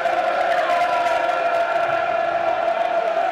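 Football stadium crowd at a Millwall home match against Blackburn Rovers, a continuous broad roar with sustained chanting tones and scattered shouts, steady and loud throughout.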